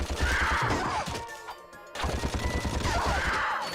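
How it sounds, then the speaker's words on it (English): Rapid bursts of blaster fire in Ratchet and Clank, loud and close, with a brief lull in the middle before the shooting resumes. "The blaster has a pretty cool sound effect as well when you shoot it."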